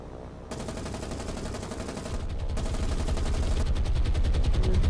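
Aircraft strafing a ship in the naval combat game War on the Sea, a loud, sustained burst of rapid machine-gun fire that builds in intensity and rattles continuously to the end.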